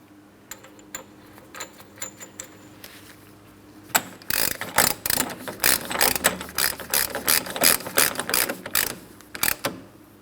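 A hand ratchet tightens the axle nut on the rear hub of a 2003-2007 Cadillac CTS during a wheel bearing replacement, first with scattered soft clicks, then with a fast run of loud, close ratcheting clicks, and no talk.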